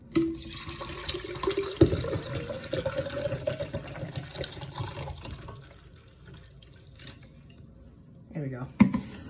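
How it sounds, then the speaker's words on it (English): A 20-ounce Mountain Dew is poured into a Kalahari cup: a close, steady liquid splash and fill that trails off, with a brief voice near the end. "let's pour this in."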